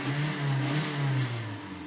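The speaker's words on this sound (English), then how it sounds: "It's a fairly slow revving engine." A 2011 Hyundai Elantra four-cylinder engine revs slowly, its tone climbing and falling through a couple of rises, somewhat noisy and coarse at the upper revs, heard close with no talking.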